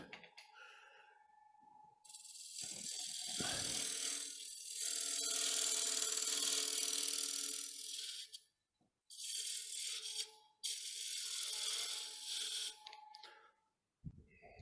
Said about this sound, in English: I usually just take use this carbide tool here to cut my recess